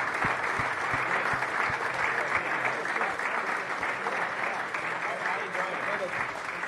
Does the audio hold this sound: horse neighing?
no